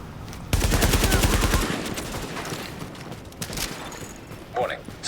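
A rapid burst of automatic gunfire in the game Tom Clancy's The Division rattles loudly for about a second, then gives way to lower battle noise and scattered sounds, with a brief synthetic alert tone near the end.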